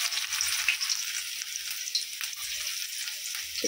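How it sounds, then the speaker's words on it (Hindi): Steady, soft sizzling of cumin and garlic frying in hot oil, a continuous crackling hiss with small pops, close by and without talk. "पहले मैं तड़का लगा रही हूँ जीरा का"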